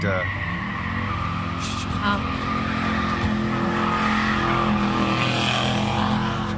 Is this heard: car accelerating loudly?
yes